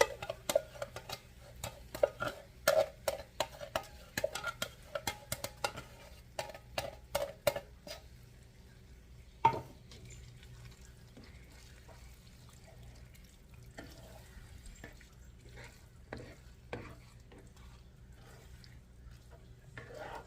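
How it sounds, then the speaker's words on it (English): Ground beef enchilada mixture in a pan is chopped with a utensil, giving sharp clacks and taps in quick irregular bursts, then sparser knocks over a faint background hum, with no talking. "I'm going to chop up the ground beef a little bit more. I'm going to just let this simmer for a while"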